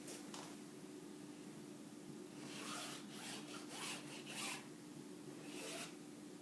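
A marker or chalk drawn across folded fabric to connect a line on a blouse pattern, a soft close scratchy rubbing in several short strokes over a steady low background hum, no talking.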